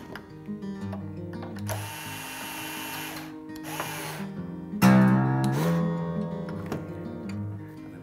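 A steel string on an acoustic guitar is wound two to three wraps around a tuning post, giving close mechanical whirring and ratcheting with gliding string tones that rise as it tightens, then a louder twang near the end.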